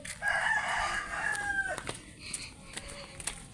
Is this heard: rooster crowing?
yes